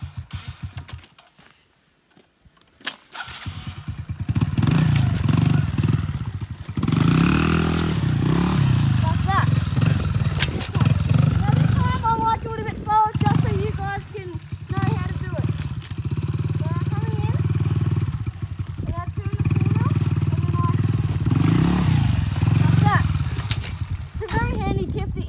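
Motorbike performing a slow spin-out U-turn as the clutch is dropped, its engine idling and revving steadily nearby while someone talks over it.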